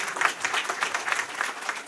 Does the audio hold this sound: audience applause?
yes